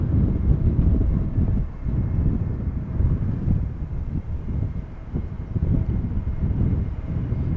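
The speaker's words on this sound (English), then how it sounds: "Arriving from Geneva, this is an A320neo from EasyJet." An EasyJet Airbus A320neo arrives from Geneva at Schiphol on a gusty crosswind day, a low distant engine rumble mixed with heavy buffeting wind on the microphone, no voices.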